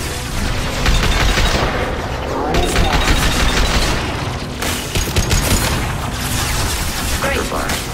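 Combat gunfire rattles in Mass Effect 2, dense overlapping shots and heavy booms in continuous bursts at close range, with voices speaking intermittently beneath the clamor.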